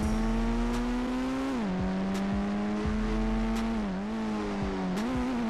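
Mahindra Thar driving in the mobile game Indian Bike Driving 3D: a steady engine drone whose pitch dips and recovers as it slows under braking, with a few sharp clicks over it and no talk.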